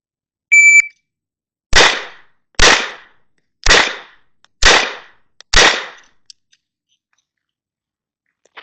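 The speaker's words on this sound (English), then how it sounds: "we shot the first 5 rounds trying to find that can't miss speed" Five sharp pistol shots at an outdoor shooting range, fired at an even pace about a second apart, loud and close, each with a brief decaying ring, and no talking.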